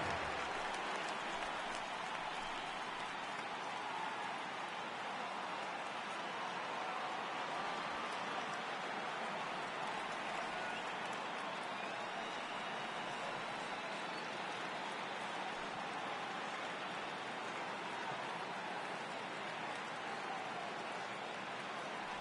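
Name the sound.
rain falling during a baseball game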